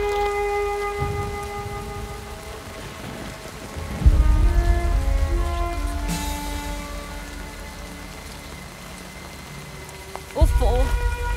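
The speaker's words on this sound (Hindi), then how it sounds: "इतनी बारिश हो रही है।" Heavy rain pours steadily in a film scene, a constant loud wash under sustained music tones, with low thumps and a brief swell near the end.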